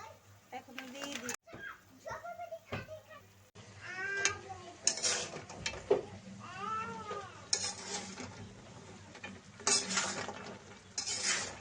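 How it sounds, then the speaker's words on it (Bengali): Sugar syrup for flour murali is stirred in a pan with repeated scraping clinks, while a cat meows loudly several times nearby and a person talks. "ভালো করে নেড়ে নিব, নেড়ে ছেড়ে চিনির শিরাটা একদম সাদা করে নেব।"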